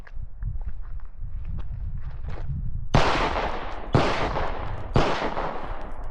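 Three loud, sharp pistol shots at a shooting range, evenly spaced about a second apart and aimed at a target dummy, after a stretch of shuffling and low handling noise.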